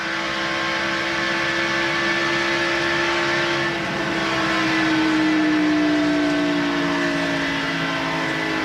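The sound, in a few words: race car engine revving through gears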